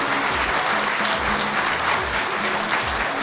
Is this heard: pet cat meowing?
no